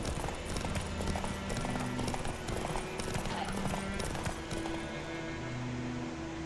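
Steady rhythmic clip-clop of a horse's hooves while riding in The Witcher 3, a quiet continuous trot with low tonal music underneath.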